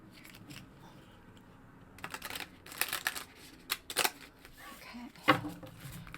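Tarot cards are shuffled in quiet bursts, with soft papery riffles and slaps that come in irregular clusters close by.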